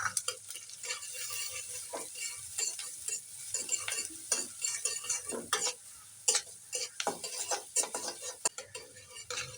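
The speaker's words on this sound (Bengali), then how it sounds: "বাটার দিয়ে পেঁয়াজগুলো ভেজে নেব। রসুন কুচিগুলো দিই।" Onions and chopped garlic frying in butter in a pan, a soft continuous sizzle broken by repeated scraping and clinking of a stirring utensil, close but quiet.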